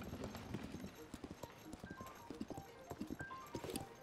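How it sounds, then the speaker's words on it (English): Horse hooves clip-clop in a steady trotting rhythm in The Legend of Zelda: Tears of the Kingdom, close and clear on a road, with occasional brief in-game sounds layered over the hoofbeats. "A horse."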